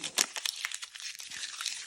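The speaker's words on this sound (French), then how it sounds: "Vous le froissez bien." A sheet of paper is crumpled by hand, giving a close, dry crinkling and crackling in quick irregular bursts.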